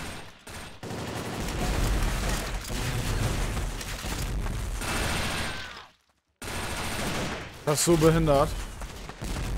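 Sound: AW sniper rifle gunfire in the video game WarRock

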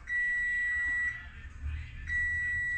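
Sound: timer beeping

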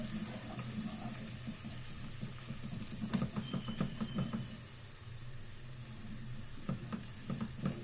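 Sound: sautéing chicken with tomato paste in a pan

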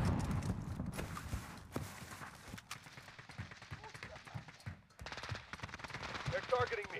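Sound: gunshots in a video game

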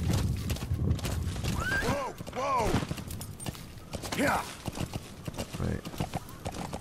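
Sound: horse hooves clip-clopping in video game Metal Gear Solid 5

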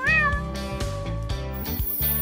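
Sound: cat meowing

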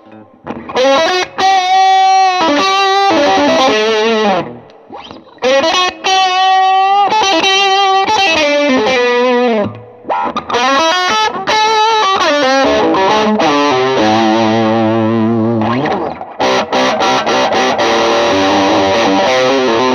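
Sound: electric guitar through distortion pedal

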